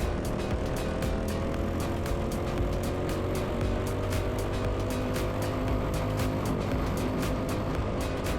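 Racing cars driving into a corner make a continuous, droning engine roar. Several engine tones hold and slowly shift in pitch under a dense, rough noise, with light regular ticking over the top.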